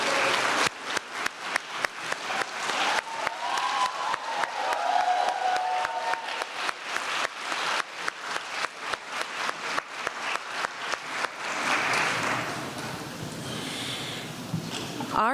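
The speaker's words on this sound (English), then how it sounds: "Please join me in applauding your supporters." An audience at a physician assistant graduation ceremony applauds the graduates' supporters, a dense roomful of clapping that swells, holds loud, then thins toward scattered claps at the end.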